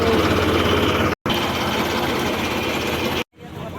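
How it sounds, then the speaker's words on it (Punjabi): A tractor engine, hitched to a trolley, idles with a steady continuous mechanical drone, briefly cut twice, close and loud with no talking. "ਪਹਿਲਾਂ ਟਰੈਕਟਰ ਟਰਾਲੀ ਲਾ ਲਈਏ ਸਾਈਡ ਤੇ"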